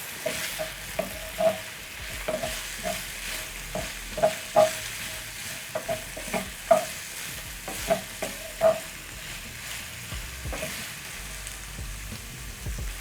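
Onions sauté in a pan for a pork stew, with a soft steady sizzle under repeated scraping stirs of a utensil against the pan, close and moderately quiet, with no talk.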